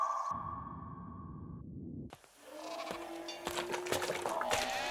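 Goats and cows bleating and lowing in a film scene, a faint animal call rising amid other scene sounds and tones, heard at a distance rather than up close.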